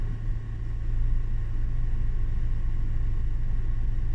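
A car engine idles steadily with its air conditioning just switched off, giving a low, even rumble close by with no clear change in pitch and no voices.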